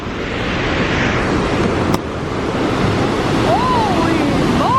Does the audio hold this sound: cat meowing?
no